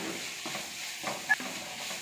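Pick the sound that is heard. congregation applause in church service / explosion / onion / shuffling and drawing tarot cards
onion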